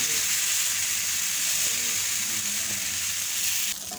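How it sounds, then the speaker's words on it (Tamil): Dosa batter sizzles and fries steadily on a hot oiled kadai, a close, even crackling hiss that drops slightly near the end. "கடாய் நல்லா ஹீட்டாக இருக்குது எண்ணெய் அப்ளை பண்ணி வச்சுருக்கோம் மாவை நம்ம ஊத்தாப்பம் மாதிரி தான் விட போகிறோம்"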